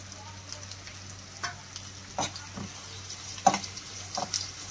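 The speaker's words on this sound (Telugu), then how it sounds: "ఇప్పుడు ఇందులో మనం కట్ చేసి పెట్టుకున్న పచ్చిమిర్చి, ఆనియన్ని కూడా వేసి ఫ్రై చేసుకోవాలి." Green chillies and chopped onion frying in hot oil for restaurant-style dal khichdi, a steady soft sizzle with a few louder stirring scrapes and clatters, close and with no talk.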